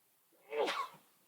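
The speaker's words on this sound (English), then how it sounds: "Sneeze." A single short sneeze, fairly close and moderately loud, alone in a quiet room.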